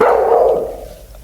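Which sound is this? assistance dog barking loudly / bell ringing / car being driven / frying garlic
assistance dog barking loudly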